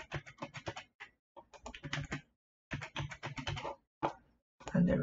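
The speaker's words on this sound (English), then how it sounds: "Then I type" Quick bursts of typing on a computer keyboard, close and crisp, come in several separated runs of rapid key clicks with short pauses between, ending with a heavier thump, while entering a new password.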